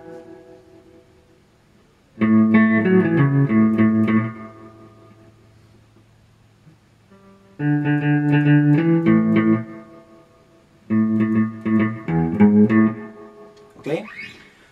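Electric guitar plays phrases of a tune in twangy bursts: three loud passages of low melodic picking separated by quiet pauses, close and clear, ending on a quick slide.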